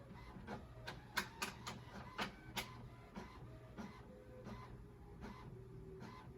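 An inkjet printer running a color print job for Cricut print and cut, with repeated mechanical passes and clicks, loud bursts early then steadier rhythmic strokes, close by with no voices.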